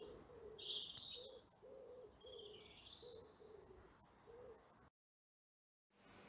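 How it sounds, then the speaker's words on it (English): Birds at a garden bird feeder give a soft, repeated run of cooing hoots with a few higher chirps above, faint and outdoors, before a brief silent gap. "This last part is just some birds visiting a bird feeder and their wonderful bird song for you to enjoy."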